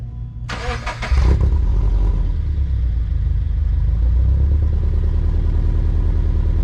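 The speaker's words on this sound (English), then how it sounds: "With silencer startup." Subaru BRZ with the exhaust silencer fitted, cranking briefly and catching into a loud start, then settling to a steady, close idle rumble with no talking.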